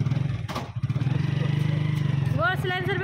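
A motorbike engine runs steadily and close by for the whole stretch, a low throbbing drone, while a voice speaks over it near the end.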